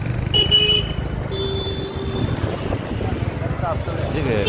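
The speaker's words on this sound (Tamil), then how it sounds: "இப்போவே பாருங்கள் டிராஃபிக் அதிகமாக இருக்குது" Heavy road traffic on wet early-morning streets after overnight rain keeps up a dense engine rumble, with car horns tooting several times in sustained blasts while someone talks over the noise.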